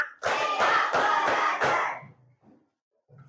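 A group clapping hands together in a counting game, five quick sharp claps in a row, loud and close, followed by quieter voices afterwards.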